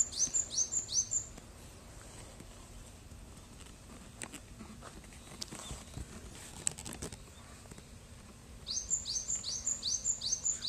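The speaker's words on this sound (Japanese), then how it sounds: "あの鳥は何ていう鳥でしょうか。" Outdoors on a fine day among greenery, a bird chirps in fast repeated high tweets at the start, falls quiet behind faint rustling and clicks, then chirps again near the end.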